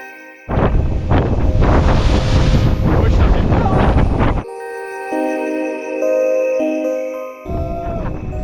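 Powerful ocean waves and wind at sea cliffs in Guadeloupe, a loud close roar of surf and wind buffeting the microphone for several seconds, then quieter water with music underneath.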